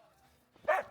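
Sled dogs eager to set off, one sharp near bark rising out of quiet background murmur and faint voices.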